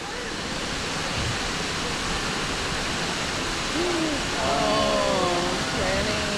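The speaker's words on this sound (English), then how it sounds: "Waterfall, that's so beautiful." Indoor waterfall inside the glass Rainforest Pyramid at Moody Gardens, a steady broadband rush of falling water filling the space throughout, with brief voices and bird-like calls, including a parrot, rising over it near the end.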